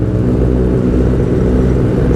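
Several superbikes at a big meetup, among them a Hayabusa, a Fireblade and a V4S, make a loud, steady, deep engine roar close by with no voices.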